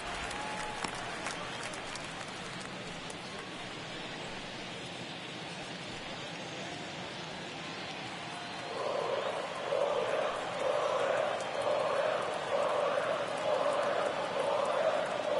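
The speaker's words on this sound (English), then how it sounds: "you can feel this crowd waking up a bit here" A baseball stadium crowd at a White Sox at Royals MLB game starts as a steady distant murmur, then swells into louder sustained cheering and shouting partway through.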